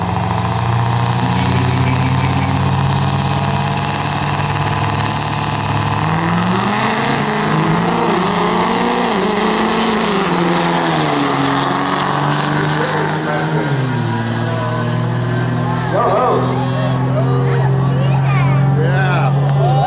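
Two four-wheel-drive drag racing trucks on nitro at a 2009 Sacramento truck drags event roar loudly and continuously, their engines climbing in pitch as they accelerate down the strip, with a high whine rising over the blare.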